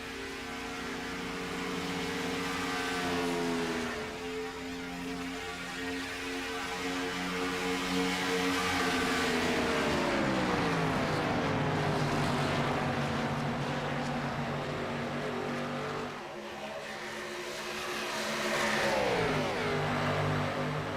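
Several race cars in a sim racing game run bumper to bumper at Auto Club Speedway, engines droning loud and steady with pitch sweeping down and up as they pass, continuous for the whole stretch with no talk.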